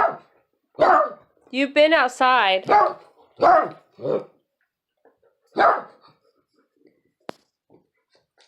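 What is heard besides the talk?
dog barking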